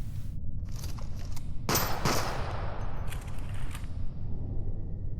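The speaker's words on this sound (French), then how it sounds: "Tire une balle pour voir." Gunfire in the horror video game Species Unknown: a loud burst of sharp shots around the middle, with dense crackling game ambience before and after and no talk.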